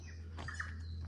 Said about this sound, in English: as you can hear, lots and lots of birds